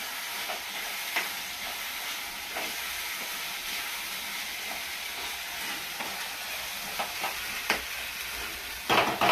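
Mango fish curry is stirred in a pan over a soft steady sizzle and hiss, with faint scrapes of the spoon and a louder clatter at the end.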